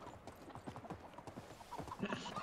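A donkey's hooves clop steadily in Medieval Dynasty, fairly quiet, with a brief whinny-like sound near the end.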